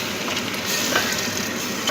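Pasta sauce being mixed in a hot pan, a dense, continuous sizzle and scraping stir that stays close and loud with no pauses throughout.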